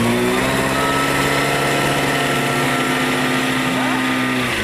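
An old car engine runs roughly with a steady mechanical drone and whine, loud and continuous throughout, with a bearing fault and a faint voice in the background.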